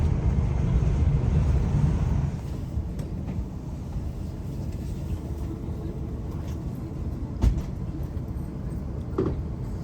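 A train rolls along with a continuous low rumble and a few faint clanks.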